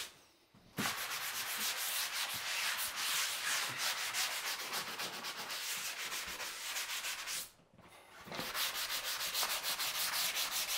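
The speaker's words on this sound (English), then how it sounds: "So I'm going to do a little real light sanding, not taking much off" Steady rhythmic scraping of a sanding block rubbing lightly back and forth over flat drywall, soft and continuous, pausing briefly before resuming.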